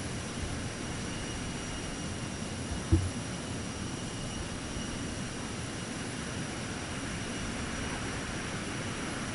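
F-18 jet engine in Microsoft Flight Simulator 2024, heard as a steady, broadband roar that holds level throughout, with one brief thump early on.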